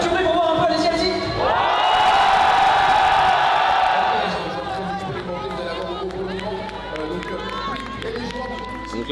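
A crowd in a Marseille sports arena roars, whoops and cheers loudly, swelling to a peak of shouting and then settling into a dense, continuous din of voices.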